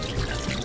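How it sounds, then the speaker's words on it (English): Water from toy squirters pushing a plastic gear around at an indoor kids' play center: a brief, close splashing and spattering of water, no voices. "The water is pushing this gear around."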